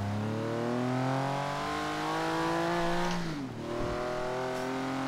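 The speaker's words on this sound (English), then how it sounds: "I don't know if you guys like the sounding of these Porsches" Porsche engine revving in the racing game Forza Horizon 3, a loud sustained rising drone that drops sharply at a gear change and then climbs again, with no talking.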